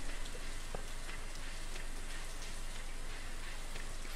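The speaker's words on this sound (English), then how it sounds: "It's Wednesday and it's raining." Steady rain falls in the farming video game Stardew Valley, a continuous even hiss of raindrops with a few faint light ticks on top, filling the scene alone without any talking.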